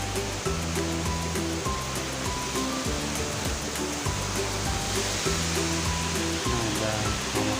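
A steady broadband rush of Kokarai Neshkapar waterfall near Mingora in Swat, loud and continuous under a rhythmic music track, with a voice speaking briefly.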